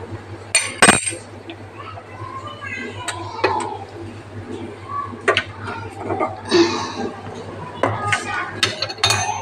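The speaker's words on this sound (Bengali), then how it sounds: "এবারে আমি কড়াইটা বসাই দেবো, দেখো গরম হতে।" A metal kadai wok is set down on a stove with a sharp clank, followed by scattered clinks of pots and utensils in a kitchen, with someone speaking between the knocks.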